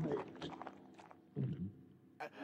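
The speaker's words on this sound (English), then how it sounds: "the crunching sounds there sound satisfying from like a sound design perspective" Crunching noises from the Crash Tag Team Racing video game come in short bursts: a cluster of crisp crunches, then a pause, a lower crunchy burst, and a final brief one, fairly quiet overall.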